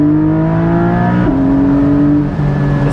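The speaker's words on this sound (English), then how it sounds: "The sound is unbelievable on this car." A Porsche 718 Spyder's engine revs hard, a loud tonal whine climbing, dropping briefly at a gear change, then climbing again, with no talking.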